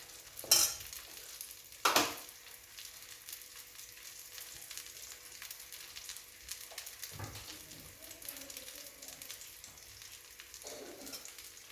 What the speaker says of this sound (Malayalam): ബീഫ് അടക്കുന്ന സൗണ്ടാണ് കേൾക്കുന്നത്